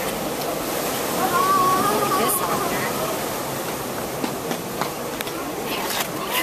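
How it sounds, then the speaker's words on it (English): A big waterfall roars as a continuous broadband rush of falling water, loud and steady, with a few faint tonal sounds passing briefly over it. "It's a waterfall, big waterfall."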